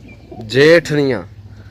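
A single pigeon coos close by, a loud two-part throaty call lasting under a second, with a quiet background before and after.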